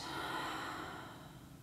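A slow, soft exhale released during a yoga breathing exercise, a steady breathy rush that fades gradually over under two seconds, close and alone.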